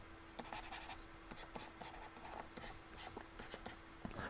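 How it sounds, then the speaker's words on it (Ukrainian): Chalk or a marker scratches across a board in quick, irregular strokes and taps while a triangle-height problem is worked out in a quiet room, with no voices. "поки я пишу, ви бачите"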